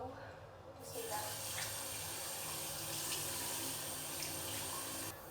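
A bathroom tap runs in a steady, close rushing stream that starts after a brief quiet moment and continues evenly to the end.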